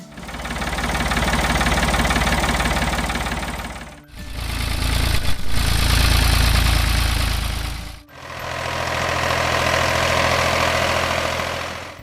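A 1960s Ford 3000 farm tractor engine idles with a heavy, low, knocking diesel chug, heard loud and close in three separate takes with brief breaks between them.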